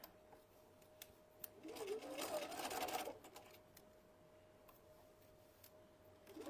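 A sewing machine runs in a steady burst of stitching for about a second and a half while a stuffed chicken is sewn, set against a quiet room with a few faint ticks before and after.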